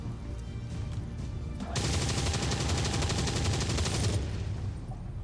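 Soldiers firing weapons in XCOM 2: War of the Chosen, a dense rattling volley of gunfire bursting out after a quieter ambient stretch, loud and sustained for a couple of seconds before dropping back.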